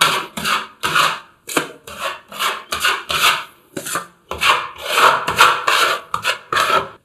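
A putty knife spreads filler across a wall stripped of tiles in repeated rasping strokes, loud and close with short gaps between them and a quicker run of scrapes toward the end.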